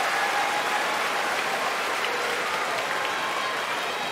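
A crowd applauds steadily at a World Judo Championships match in 2019, a dense, even wash of clapping that fills the arena from start to finish without a break.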